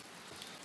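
Soft, steady rain patter in Boulder, Colorado, during the 2013 flood, a faint hiss of drops falling on a surface with no other sounds.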